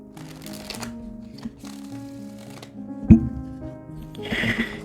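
Tarot cards are shuffled by hand in soft riffling and rustling bursts, with one sharp snap, over quiet tonal background music.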